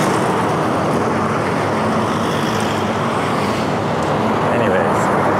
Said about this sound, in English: it is a little bit noisy over here, just because it's the main thoroughfare